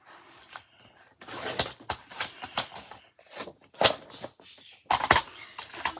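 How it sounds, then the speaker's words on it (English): Scissors snip through paper edges in a series of sharp, close crisp cuts and rustles, irregular in rhythm with short pauses between strokes. "Now I'm just going to cut the edges off."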